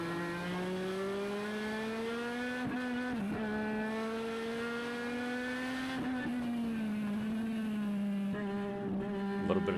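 A race car in the NASCAR-style racing video game NELCAR Legends drones steadily with a high engine whine, its pitch dipping briefly as the tires lock up under braking, loud and continuous throughout.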